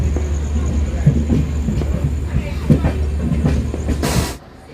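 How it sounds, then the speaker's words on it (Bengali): The Saraighat Express runs after leaving New Jalpaiguri, with steady loud rumble and rhythmic wheel clatter on the rails, then a sudden drop near the end. "ট্রেন তো বেরিয়ে গেল বন্ধুরা নিউ জলপাইগুড়ি থেকে।"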